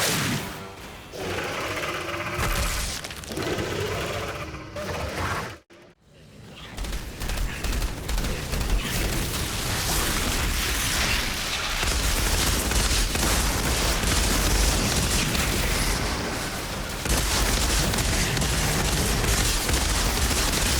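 Near-continuous rapid gunfire from hip-fired weapons in the game Outriders, played as a Trickster against a brood mother. The volley breaks off briefly partway through, then resumes loud and dense with explosive bursts, with no talk.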